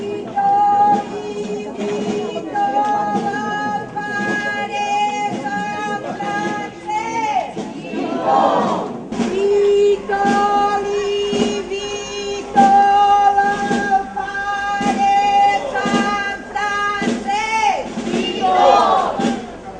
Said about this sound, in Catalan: El fervor i devoció al sant es comprovava amb els vítols espontanis que es proferiren durant la processó